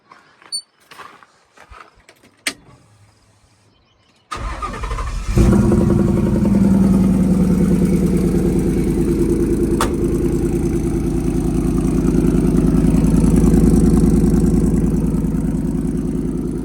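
A few clicks and rattles, then the Coyote V8 in a 1972 Ford F250 truck cranks and catches with a loud burst, settling into a deep, steady rumbling idle nearby.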